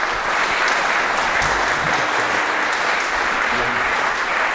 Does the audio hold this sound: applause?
yes